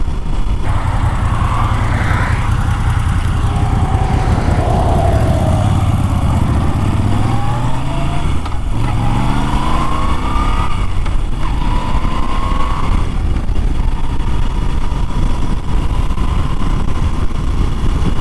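A Moto Guzzi V7 III motorcycle engine drones steadily while riding, its loud continuous rumble rising and falling in pitch through gear changes, heard close up over constant wind noise with no talk.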